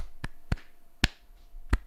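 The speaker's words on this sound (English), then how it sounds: "Yeah, slow hand clap." Four slow, sharp hand claps spaced irregularly about half a second apart, close and fairly loud against near silence, in a sarcastic slow clap.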